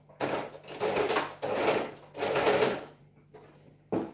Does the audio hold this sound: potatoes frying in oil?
no